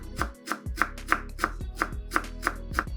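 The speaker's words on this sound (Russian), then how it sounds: "Измельчаем пучок укропа" A knife chopping a bunch of fresh dill on a cutting board, about ten crisp, evenly spaced thuds in a steady rhythm, close and clear with no talk.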